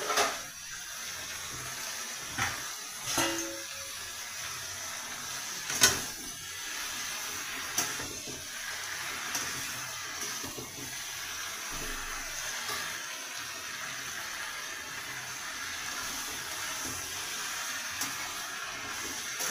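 Chopped red amaranth greens (lal shak) go into a hot pan for a Bengali curry and cook with a steady, soft sizzle and hiss, broken by a few light clanks of the utensil against the pan.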